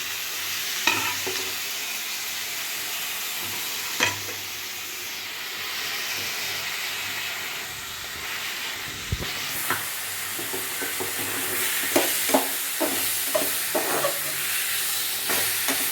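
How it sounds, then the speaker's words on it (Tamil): Onions sauté in a pan with a continuous hissing sizzle and occasional spatula scrapes and knocks, which grow busier toward the end, with no speech. "இப்போ வந்து வெங்காயம் நல்லா வதங்கிச்சு ஃப்ரெண்ட்ஸ்"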